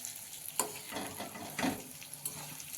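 Stuffed long capsicums fry in a pan with a steady sizzle and crackle, broken by a few scraping stirs of a spoon, close and continuous with no talk.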